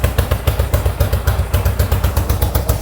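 Engine of a 1970 Yamaha XS650 motorcycle with old carburetors idling close by, a loud, even, throbbing pulse of low beats with mechanical clatter over them.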